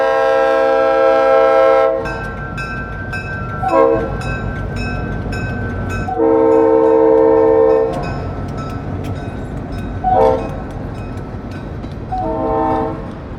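A CF7 diesel locomotive on a short-line railroad sounds a loud chorded horn in repeated blasts as it rolls past, with rumbling engine and clattering wheels between the blasts.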